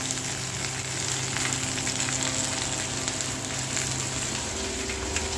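Black cumin (nigella) seeds sizzle in hot oil for a Bengali gule fish curry, a steady, dense crackle throughout with no talking.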